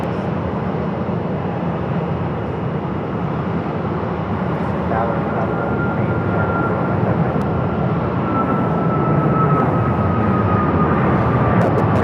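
A Southwest airliner descends to land on runway 7 right at Phoenix Sky Harbor, its broad, steady engine roar sustained and loud throughout, with a faint rising whine in the upper range late in the pass.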